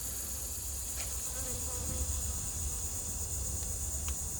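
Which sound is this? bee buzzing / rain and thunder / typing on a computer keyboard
bee buzzing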